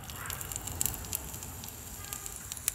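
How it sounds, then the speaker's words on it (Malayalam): Onion dropped into hot oil in a tiny miniature cooking pan sizzles and crackles steadily, with sharp little pops scattered through the frying, close and fairly loud. "അപ്പോൾ നമുക്ക് ഉള്ളി ഇട്ട് കൊടുക്കാം."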